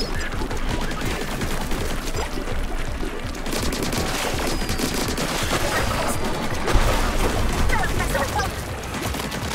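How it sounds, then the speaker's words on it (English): A cannon firing in the Splatoon 3 video game, heard as dense continuous rapid bursts and rumbling under busy game sound and talk, loud and steady throughout. "the cannon's fired up"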